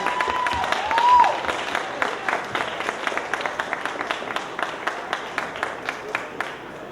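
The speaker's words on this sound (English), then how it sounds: "She certainly deserves a round of applause." An audience gives a round of applause, full clapping that swells early and then thins into slower, rhythmic individual claps as it winds down.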